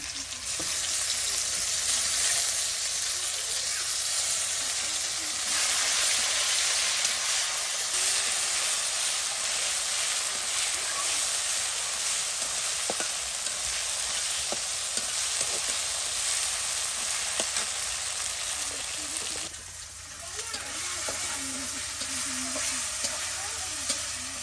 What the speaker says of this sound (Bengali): দেখুন আমাদের আদিবাসী দিদি কত সুন্দর করে আপনার মশলাটা কষাচ্ছে।